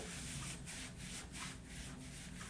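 A cleansing wipe for acne-prone skin, Neutrogena Oil Free, is rubbed across a face in a quiet room, producing soft, rhythmic scrubbing swipes that repeat steadily and stay close and faint.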